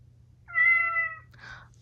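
A Chongker MateCat Pro interactive robot cat gives one clear, close synthetic meow, followed by a short soft breathy purr-like sound, with no talk.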